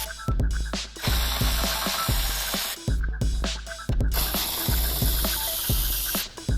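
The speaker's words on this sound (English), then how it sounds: "Let's jump over to another job where we used a socket and an electric ratchet." An electric ratchet with a socket spinning out 8mm bolts on a 2002–2006 Honda, loud whirring bursts of rapid pawl clicking separated by brief pauses, close and alone.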